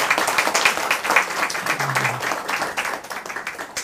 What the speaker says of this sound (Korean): 한번 일어나시면 우리 박수 한번 하겠습니다